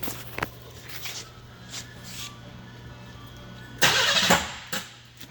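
A 1996 Buick Century with a 3.1L engine and leaking injectors cranks near the microphone, a short burst of starter noise rising out of a quiet idle hum with a few faint clicks before it.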